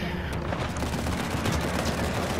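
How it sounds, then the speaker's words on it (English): Grenade explosions and rapid gunfire from a firefight in the video game Uncharted 4 form a dense, loud, continuous barrage of overlapping bursts close by. "Stop throwing grenades at me!"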